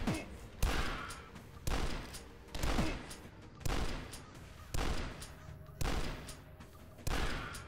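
Repeated shotgun blasts in the retro first-person shooter Dusk, seven heavy booming shots about one second apart, each with a sharp attack and a short decaying tail, loud and close without voices.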